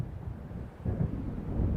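Low rolling thunder from a storm closing in on a dark lakeside in the game Alan Wake, a quiet rumble that swells louder after a short lull, with wind-like noise under it.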